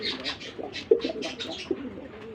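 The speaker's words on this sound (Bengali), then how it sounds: "এখানে আরেকজোড়া দেখেন গোল্লা কবুতর, এটাও আমাদের দেশীয় গোল্লা" Domestic Golla pigeons, including red ones, at a pigeon farm coo in soft, repeated throaty phrases close by, with a couple of brief wing or cage knocks.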